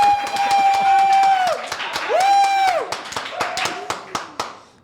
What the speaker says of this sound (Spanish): nos reciban con un fuerte aplauso a Johanna y a Marisabel